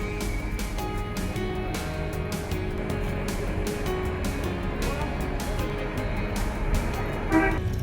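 Car horns toot repeatedly at a lively car rally in Mulsanne near Le Mans, with short honks sounding again and again over a constant hum of engines and a busy crowd.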